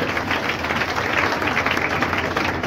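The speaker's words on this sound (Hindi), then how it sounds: "तालियों की ध्वनि रुकनी नहीं चाहिए" Audience in an assembly hall applauds to welcome powerlifting world champion Poonam Mishra, a dense, steady wash of clapping at moderate level throughout, with no voices standing out.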